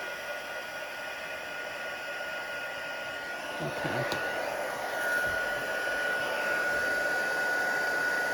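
An electric heat tool used for papercraft blows steadily, giving a continuous whooshing, hissing hum held somewhat away from the microphone. A brief voice cuts in midway over the blowing.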